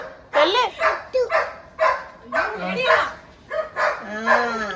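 Several short bursts of barking and yelping from a dog nearby, spaced irregularly, with a voice heard among them.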